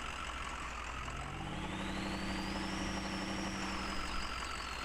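A truck engine in the Spintires off-road game revs from idle, a steady low drone rising gently into a strained, limited whine that holds for a few seconds before easing back, with no talking.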